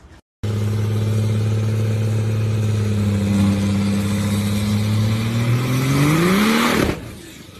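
Engine of a 1995 Chevy S10 pickup running steadily and loud, then climbing in pitch as it revs up before cutting off abruptly; no talking.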